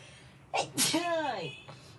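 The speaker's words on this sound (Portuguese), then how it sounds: "Quando eu espirrei." A woman sneezes once, close and sharp, with a quick intake of breath followed by a loud burst, during a quiet moment in an indoor talk.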